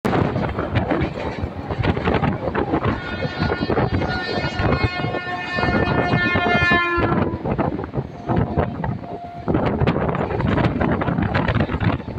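Howrah to Panskura local train on the South Eastern Railway, Kharagpur division, running steadily with loud continuous rumble and wind rush, rail clatter, and a drawn-out squeal of wheels or horn partway through.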